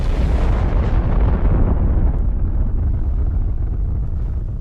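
A massive blast from Godzilla's atomic heat ray tears through Shinjuku in a film, a loud, sustained roaring rumble that slowly thins and fades over several seconds.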